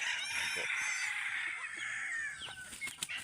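A captured female red junglefowl (labuyo) hen brooding on a clutch of nine eggs at a breeding setup gives close fowl calls and clucks, with soft rustling underneath.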